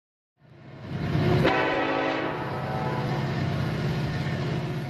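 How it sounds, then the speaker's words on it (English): A train passes a road crossing on Route 658, Rockland Road, in Warren County, with a loud rumbling roar that swells in and holds steady, and a horn blast near the start. "Every day, thousands of vehicles and train cars cross paths here on Route 658"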